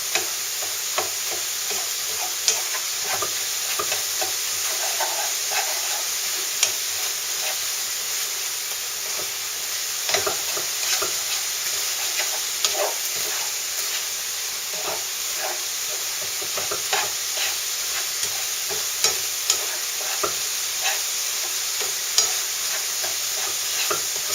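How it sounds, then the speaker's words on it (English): Onions, peppers and mince fry in a pan for chili, a continuous close sizzling hiss with scattered pops and crackles, no voices over it. "just let it fry off and add those flavors to my onions, peppers, and mince"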